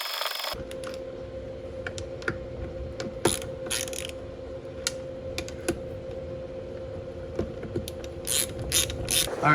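Transmission bolts being tightened with a ratchet, a series of close, crisp clicking pawl strokes in irregular bursts over a steady background hum, with no talking.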